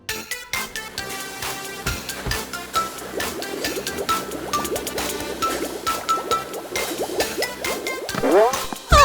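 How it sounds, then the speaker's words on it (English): Liquid soap pours and fills a container in an animated children's cartoon, a steady gurgling, bubbly stream with rising slurping tones that grows fuller toward the end, layered with bright cartoon music. "Now the soap is filled to the top."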